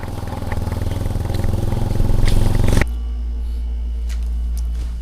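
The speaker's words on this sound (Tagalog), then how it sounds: "Lakas ng motor mo, kuya. Lakas ah. Ito yung old na TMX, ano?" A loud old Kawasaki TMX motorcycle engine roars steadily, then drops abruptly to a lower, rumbling idle that continues to the end.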